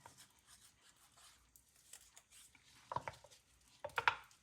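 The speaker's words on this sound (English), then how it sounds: "I'm just gonna slice it open just so that the spices will go down in it" A knife slicing open a rack of ribs, quiet scraping and cutting at first, then a few sharper cuts and knocks against the board toward the end, with no talking.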